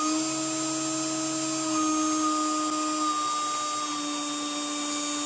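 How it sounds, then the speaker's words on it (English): A CNC router spindle runs at high speed with a steady, loud whine of stacked tones and a constant hiss, unchanging throughout, with no talk. "I'm going to turn that spindle off"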